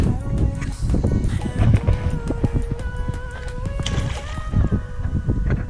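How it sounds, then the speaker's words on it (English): Fishing nets tossed into a shallow, water-filled, man-made bore drain trench, making close splashes and sloshing that run throughout with steady broadband churn. "We're just chucking the nets in the bore drain, which is this little trench here"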